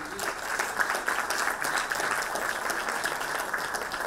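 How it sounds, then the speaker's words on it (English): A conference audience applauds its panelists with steady, crowded clapping at moderate volume that holds evenly from start to finish with no speech. "je vous demande d'applaudir nos panélistes, nos participants"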